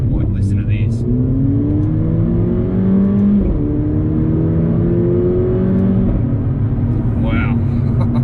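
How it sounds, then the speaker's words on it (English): A Mercedes A45 AMG hot hatch accelerating hard, engine note rising through the revs with gear changes, heard from inside over constant road rumble. "I'm just going to go for a little drive in the A45 AMG. Just have a listen to this."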